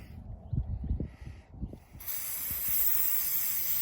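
Carb cleaner sprays in a steady, loud hiss onto the PCV valve of a Honda CR-V, starting midway after a few low knocks and thumps of handling and continuing without a break to the end.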